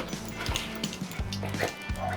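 Two dogs near a motorbike being worked on give short, close barks and yips at an irregular pace, with a faint whimper between them and no talk.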